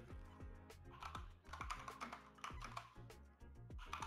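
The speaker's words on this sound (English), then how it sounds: "I can hear some guy tapping on the fucking keyboard." Rapid tapping on a computer keyboard during an online Team Fortress 2 match, steady clicking keystrokes heard faintly through a voice chat channel.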